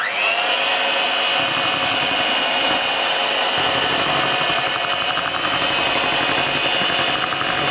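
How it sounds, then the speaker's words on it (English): An electric mixer runs steadily through banana bread batter, a loud continuous motor whine with a grinding, churning texture that holds for the whole stretch without pause. "Once you got it in, then we can use the mixer."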